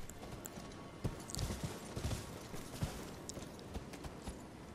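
Horse hooves clip-clop from mounted knights in the video game Elden Ring, a steady dense trotting rhythm over a constant game ambience bed, moderately close with a few heavier hoof thuds.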